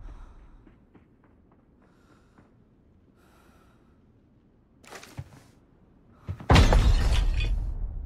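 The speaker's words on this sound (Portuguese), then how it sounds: "Granada onde eu tava." A grenade goes off in the shooter game Arena Breakout, a sudden loud blast with a long noisy tail, preceded by quiet footsteps and faint clatter.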